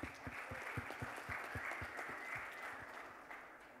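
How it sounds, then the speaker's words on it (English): Audience applause at a car launch event in Mumbai, a dense patter of many hands clapping at moderate distance, steady throughout with a light crowd murmur beneath. "Can we have an applause, please?"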